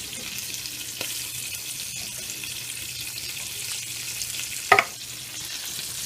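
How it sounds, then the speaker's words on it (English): Corn sautéing in a little olive oil in a pan, a quiet steady sizzle with a soft stirring clatter and one brief sharper scrape near the end. "Gonna saute it in a little bit of olive oil."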